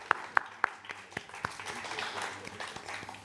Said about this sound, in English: I'll clap as well.